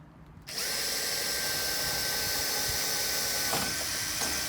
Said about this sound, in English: We're going to take the 3/16 drill bit